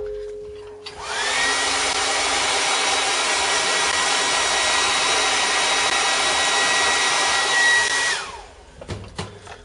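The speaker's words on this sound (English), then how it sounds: "let's hit that with the hairdryer real quick" A hair dryer switches on and blows with a steady loud whir for several seconds, then cuts off, followed by faint clicks and handling.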